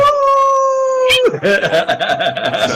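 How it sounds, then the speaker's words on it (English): Dogs howl loudly and close by, one long sustained howl followed by several overlapping wavering howls and yips. "like I need to let the dogs out."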